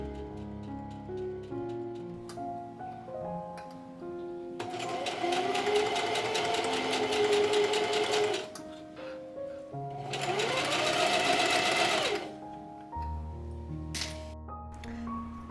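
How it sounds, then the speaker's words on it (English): A sewing machine stitches through thick layers of a button-up shirt in two sustained runs of rapid, steady needle chatter, with quieter handling and clicks between bursts. "It can be really easy to happen as we're sewing through a lot of layers."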